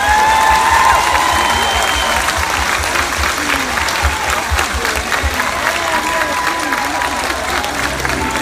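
Concert audience applause for a performer, loud sustained clapping from a large crowd with faint cheering and some voices mixed in, steady throughout with a low hum beneath.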